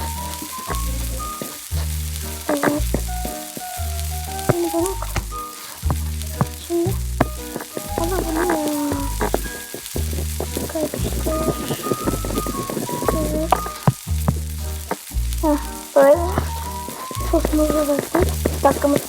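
Sizzling food is stirred in the cooking game Cookingdom, with a soft frying hiss under a repeating plucky, tonal game melody and a faint voice now and then.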